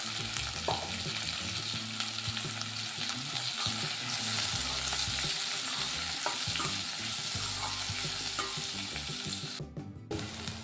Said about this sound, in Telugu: ఇదే కడాయిలో ఆయిల్ కొద్దిగా పోసుకొని మనం ఆనియన్స్ వేసుకుందామండి